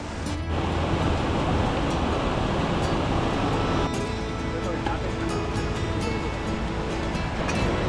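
A strong river current rushes past a destroyed bridge in the wilderness, a loud, constant broadband roar of churning water that fills the whole span.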